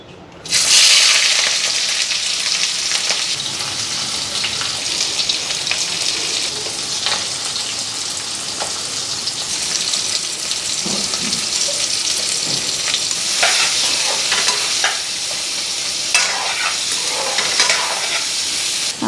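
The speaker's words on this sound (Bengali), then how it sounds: "এদিকে শুটকি বসাই দিই পেঁয়াজ কাটলাম রসুন আর কাঁচা লঙ্কা" Dried fish frying with onion, garlic and green chili in a pan, giving a steady, close broadband sizzle that runs the whole time, with occasional scraping and stirring knocks on top.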